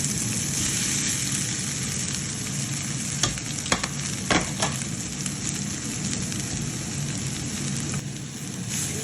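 Stingray fish varai sizzles and fries steadily in a pan while a spoon stirs it, with a few sharp scraping knocks standing out over the continuous crackle.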